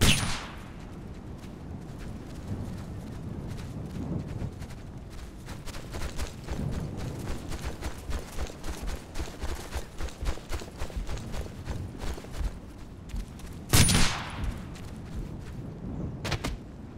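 Video game gunfire from Operation Flashpoint: Dragon Rising: a steady stream of rifle and support gun shots at moderate distance, with sharper, louder reports at the start and near the fourteen-second mark.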